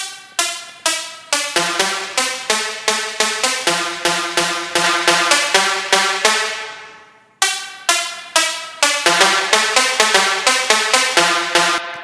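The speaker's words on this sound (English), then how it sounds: "the last sounds I used was these little brass that I put into the sampler that sound like this" Short, punchy brass stabs from a sampler in GarageBand play a rhythmic riff for a Future House track. The hits are loud and evenly spaced, with a brief pause before the pattern repeats.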